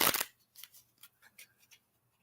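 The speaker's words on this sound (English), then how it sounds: "Let me mix the cards." Playing cards shuffled by hand in a brief riffle burst, followed by a few softer scattered card flicks and taps, close and fairly quiet, with no talking.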